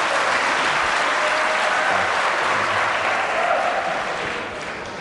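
Applause from an audience at a French televised numbers-game final rewards the contestant Lucien, a dense, steady wash of many hands clapping that fades slightly at the end.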